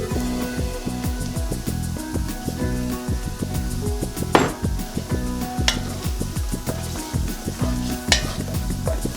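Toasted spices get stirred into a pot of Southwest-style chili, with a steady, close sizzle of frying under repeated rhythmic scraping strokes of a spoon against the pot.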